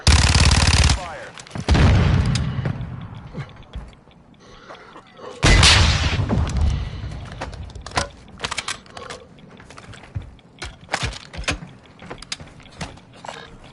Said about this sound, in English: You are taking fire.